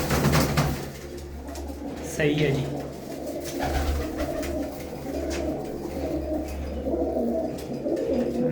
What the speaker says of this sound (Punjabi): ਦੇਖੋ ਬਾਈ ਕਿੰਨੇ ਸ਼ਾਨਦਾਰ ਕਬੂਤਰ ਨੇ